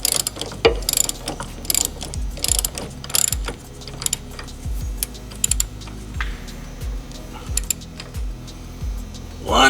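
A hand ratchet clicks in repeated bursts while tightening bolts during an Air Lift Performance air suspension install on a Dodge/Chrysler, loud and close with short pauses between strokes.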